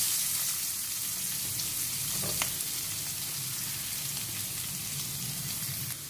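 Mustard seeds splutter and crackle in hot oil in a close, steady sizzle with a brief sharper pop partway through, and onions go into the pan alongside.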